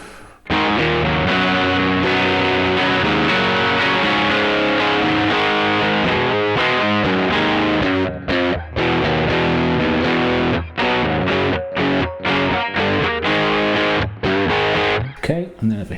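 Electric guitar through a Pigtronix Disnortion Micro pedal on a low gain fuzz setting, played continuously with dense, gritty chords and short stops near the end, loud and close.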